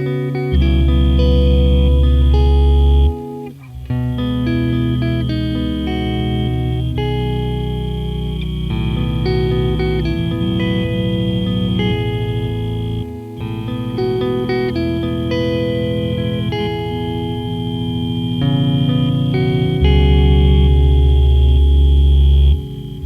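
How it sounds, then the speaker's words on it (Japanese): An electric guitar runs through an Old Blood Noise Endeavors BL-44 reverse delay pedal. Loud, sustained chords swell and wash with ambient, reversed-sounding echoes, with brief dips in between, and no talking. "これはちょっと変わったリバースディレイですね"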